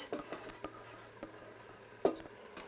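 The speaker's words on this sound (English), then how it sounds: "give that a quick stir too" Jasmine rice frying in a pot with a little oil is given a quick stir, a few soft scrapes and clinks of the spoon against the pot over a faint sizzle, quiet and close.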